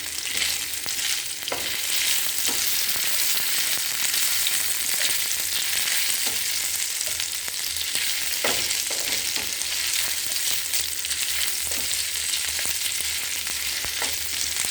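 Green chillies fry in a pan with ginger-garlic paste for a meal maker curry, giving a loud, steady sizzle with occasional stirring scrapes throughout and no talk.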